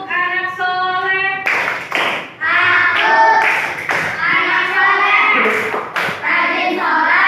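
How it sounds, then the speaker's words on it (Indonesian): Children in a primary school religion class perform a rhythmic clapping chant, sharp hand claps alternating with sung, chanted phrases and a voice, clear and close. "Sebelum kita belajar surat, tepuk anak soleh."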